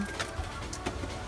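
A pigeon hen coos softly a couple of times, near but quiet, with faint background noise.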